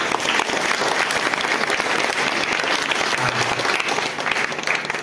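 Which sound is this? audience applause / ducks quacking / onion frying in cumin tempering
audience applause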